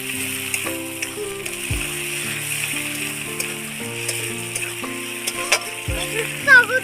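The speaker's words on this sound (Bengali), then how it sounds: "পেঁয়াজটা ভাজা হয়ে গেছে, মাংসটা দিয়ে দিচ্ছি ম্যারিনেট করে রাখা" Marinated chicken pieces frying in a pan with already-fried onions for Bengali chicken kosha, a steady close sizzle with occasional stirring clatter, no talking.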